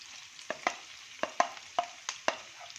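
Boiled potatoes and curry leaves being stirred in a pan, with a quiet sizzle beneath a series of crisp, irregular spoon scrapes and taps, close by and free of speech.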